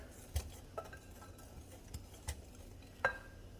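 A utensil stirs dry donut ingredients with cinnamon in a bowl, faint scraping with a few sharp clinks against the side, quiet and close with no talk.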